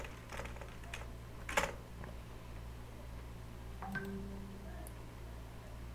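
Someone types a password on a computer keyboard, a short run of light, irregular key clicks followed by a couple of isolated taps over a low steady hum.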